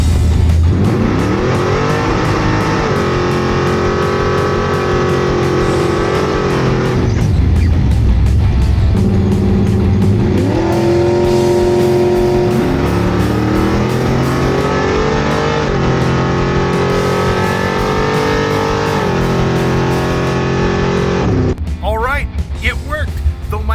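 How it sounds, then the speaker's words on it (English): A Chevrolet El Camino drag car launches at a drag race, its loud engine climbing through rising gear pulls with shifts and a roaring pass; the sound is close and powerful and runs almost continuously. "The car is squatted just a little bit on launch."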